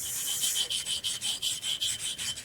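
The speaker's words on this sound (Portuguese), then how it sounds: "Vou lixar aqui com a minha lima aí de lixar facas." A knife-sharpening file rasping back and forth across a small mosaic piece, a steady rhythmic series of about a dozen close, bright scraping strokes with no talking.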